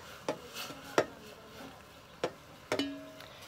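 Maggi noodles with masala are stirred in a pan, with a few sharp utensil knocks and scrapes against the pan spaced irregularly, one carrying a brief metallic ring, over a quiet background.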